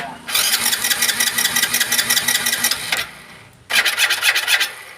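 Hero Splendor Plus motorcycle self-starter cranking the engine in two bursts, a loud, close, rapid whirring rattle lasting about three seconds, a brief pause, then a second shorter crank.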